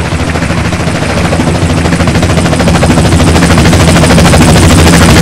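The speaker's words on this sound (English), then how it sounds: "Chopper inbound!" A helicopter arrives in the video game GTA San Andreas, its dense, rapid rotor chopping loud and close, steady and building slightly throughout with no pauses.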